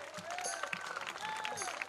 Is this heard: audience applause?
yes